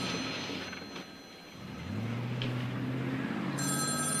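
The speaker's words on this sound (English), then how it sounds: "Your phone's ringing" A telephone rings with a steady bright tone over a low engine-like hum inside a police cruiser, fairly close and clear.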